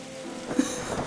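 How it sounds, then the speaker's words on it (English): Steady rain falling outside a library in the Darkside Detective video game, a continuous wash of soft patter with a faint low rumble and one brief thump, no voices. "it's always raining outside"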